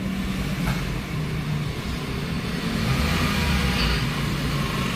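A Honda Mobilio engine idles, then is revved and settles back down, a steady close mid-pitched hum with a brief rise in throttle and no talking.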